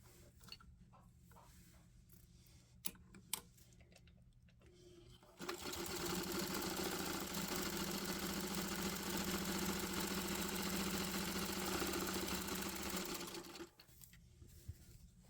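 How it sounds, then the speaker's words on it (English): Sewing machine stitches down the sides of embroidered can koozies, starting after some quiet handling clicks and running in a steady, even mechanical whir for about eight seconds before stopping. "We're going to run a stitch down each side of these about that thick."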